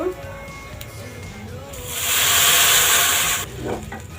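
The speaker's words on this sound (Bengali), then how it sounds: "এখন পরিমাণ মতো পানি দিয়ে দিব" Water is poured into a hot pan of fried rice for mutton biryani, setting off a loud, steady burst of hissing steam for over a second that then cuts off, with a voice speaking softly before and after.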